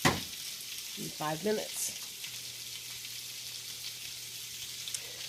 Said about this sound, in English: those are going to grill 5 to 6 minutes aside